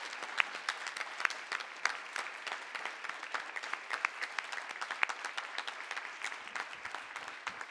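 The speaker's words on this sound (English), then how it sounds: "Let's give a round of applause" A round of applause at a school district board meeting, a modest crowd clapping steadily with distinct individual claps, fairly quiet and heard alone.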